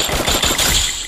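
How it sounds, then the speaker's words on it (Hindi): Gunfire rattles in the Free Fire video game as a rapid burst of automatic shots. The reports are loud and close, fired in quick succession over about a second, with no voices over them. "फायरिंग हो रही है, फायरिंग हो रही है।"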